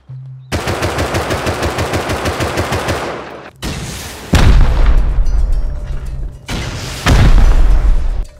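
Rapid automatic gunfire rattles loudly for a few seconds in the video game Rust, followed by two heavy, booming explosive blasts with rumbling tails, close and dominant.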